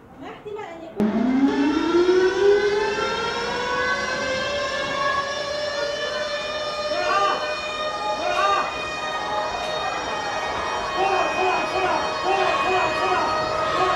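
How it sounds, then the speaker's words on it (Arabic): A school fire alarm siren sounds during an evacuation drill, a loud wail that sweeps up in pitch and then holds a sustained tone, with voices faintly in the background. "بنخلي صفارات الإنذار جهاز الإنذار يضوي"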